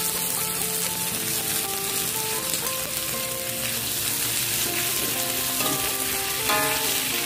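Shrimp fry hard in a pan, a steady loud sizzle running throughout with stirring scrapes and clatter; the dish is shrimp cooked with pineapple and ensabi greens.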